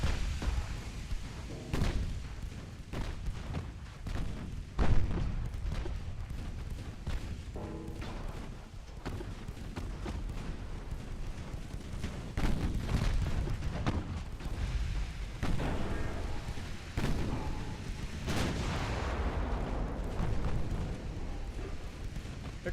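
Heavy naval gunfire from battleship main batteries in Ultimate Admiral Dreadnoughts, heard as repeated deep booms and thuds over a dense rumbling battle din, with a voice talking at times.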